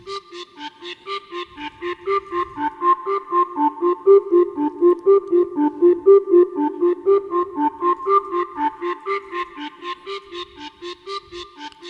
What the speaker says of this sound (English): a melodica with a slider that you can slide out.